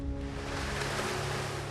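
Rough sea waves surge off the Jeju coast in a steady, loud, broadband roar of surf with no break and no voices.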